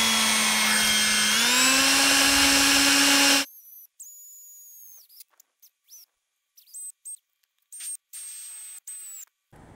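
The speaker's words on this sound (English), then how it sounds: "I'm gonna try to drill straight through." A power drill whines loudly and steadily for about three seconds while drilling through a metal trailer tray, then stops; short high-pitched bursts follow, with silent gaps between them.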